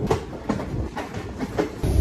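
Ratnachal Super Fast Express running on rails between Visakhapatnam and Vijayawada near Anakapalli, heard from on board as a steady close rumble with a rhythmic clickety-clack of wheels over rail joints roughly every half second.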